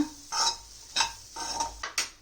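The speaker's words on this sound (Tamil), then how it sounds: "இப்போ இதில் கொஞ்சமாக தேங்காய் சேர்த்திக்கோங்க இப்போ இது ஃபுல்லாக ஃப்ரை பண்ணிக்கோங்க" Broad beans and grated coconut are stirred in a pan, with four rhythmic scraping sweeps of a spatula against the metal over a faint background sizzle, close and moderately loud with no voices.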